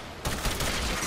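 A Supra gun in Warframe fires a short, fast burst of rapid shots that begins abruptly and continues steadily for about a second, loud and close.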